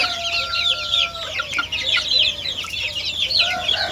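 Several chickens cluck and chatter continuously nearby in a rural yard, overlapping short calls at moderate loudness with no speech.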